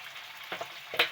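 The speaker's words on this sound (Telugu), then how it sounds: "ఇది పిల్లల కోసం ఫ్రై చేస్తున్నాను" Tomatoes fry with chili powder in a pan, a soft close sizzle broken by a few brief bursts of stirring.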